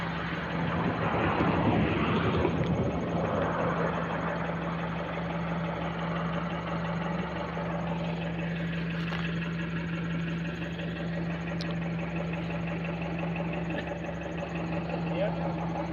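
A car engine runs close by with a steady low drone, and a rev swells early before it settles back to idle while people talk over it.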